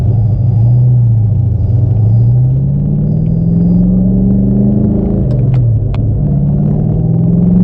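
1972 De Tomaso Pantera on the street, its engine giving a deep loud rumble that rises and falls gently with throttle, heard close from the cabin with a few faint clicks and no talk.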